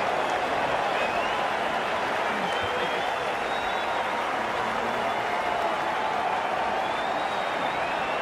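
A cricket crowd at an India versus Australia match cheers and applauds in a continuous dense roar, loud and sustained throughout with faint whistles riding above.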